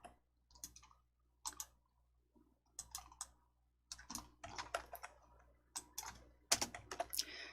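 Mouse clicks in Hangul word processing software, arriving as short, crisp clicks in small irregular bursts with quiet gaps between them, close and fairly faint.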